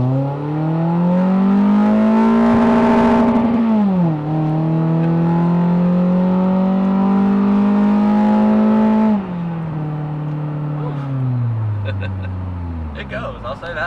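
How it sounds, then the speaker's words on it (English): A 2013 Scion tC Itasha edition accelerates hard from a standstill toward 60, its engine climbing loud and close through the revs, dropping at each gear shift, then easing off near the end. "That was the most obnoxious 0 to 60 I think I've ever experienced."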